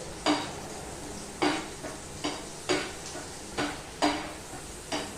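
Onions sautéing in a mix of butter and oil for masala pav, a soft sizzle broken by about six sharp, evenly spaced clinks of a spoon against the pan.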